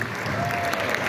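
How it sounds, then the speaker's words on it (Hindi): A school audience claps enthusiastically during a pre-exam talk event, a brief burst of dense applause with a faint voice under it. "बेटा सबसे पहले तो ये आयुष भैया के लिए जोरदार तालियां।"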